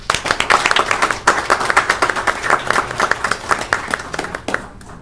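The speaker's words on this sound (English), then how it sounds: "Let's give them a big round of applause" Close, crisp clapping from a small audience at a Union County Freeholder meeting in Linden, with individual claps clearly distinct in an uneven rhythm that holds for a few seconds and then tapers off.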